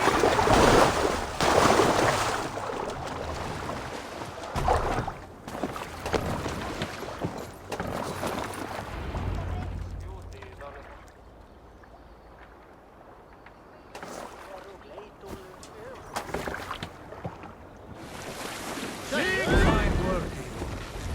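Water sloshing and lapping around a moving boat in the game Assassin's Creed Valhalla, with wind and splashes, under bursts of game voices and music-like swells.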